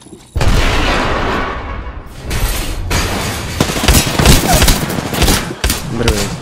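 Video game firefight with a grenade blast and gunfire: a sharp explosion onset, then dense, continuous bursts of rapid shots and booming impacts, loud and close, with occasional speech over it.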